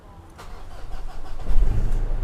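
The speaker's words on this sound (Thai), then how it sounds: "เดี๋ยวเราจะสตาร์ทฟังเสียงเครื่องให้ดู" A Mazda BT-50 Freestyle Cab 2.5 pickup engine cranks and catches, then rumbles into a low, steady idle that grows louder, heard up close with no talking.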